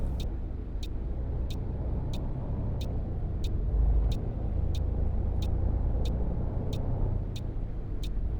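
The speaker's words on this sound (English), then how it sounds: "So you can hear the indicator." A bus turn indicator in a coach driving simulator game ticks at a steady, even pace, about a dozen crisp clicks over a constant engine hum.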